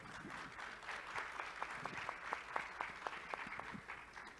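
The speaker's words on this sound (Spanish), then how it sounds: "Démosle un fuerte aplauso, por favor." Faint applause from an audience, a scattered mix of claps with a few sharper individual claps standing out, heard from a distance.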